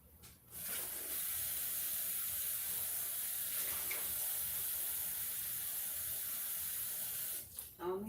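Water running from a kitchen tap while cooking pepper chicken, a steady soft hiss of flow that starts after a brief clatter and runs for several seconds before being shut off.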